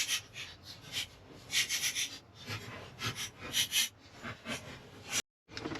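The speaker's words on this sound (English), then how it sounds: "So we're gonna get these 4 big screws out of there." Ratcheting and rubbing as four 13mm screws are backed out of an aftermarket short throw shifter on a 1983-2004 Mustang with a T5/T45 transmission; irregular close scraping bursts, no talk.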